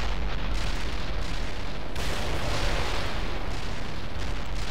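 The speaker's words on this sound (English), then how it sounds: "Artillery barrage hit for full effect." Artillery barrage pounding a battlefield in the World in Conflict strategy game, a dense continuous rumble of overlapping blasts and roaring debris, loud and sustained throughout with no clear gaps.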